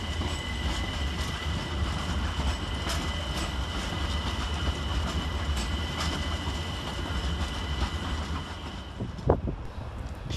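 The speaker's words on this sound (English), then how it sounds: "we see 378217 arriving, terminating with a London Overground service from Richmond" London Overground class 378 unit 378217 arriving at Stratford station on a service from Richmond, steady rumbling wheels with rhythmic clicks over rail joints and a sharp brake squeal near the end as it slows.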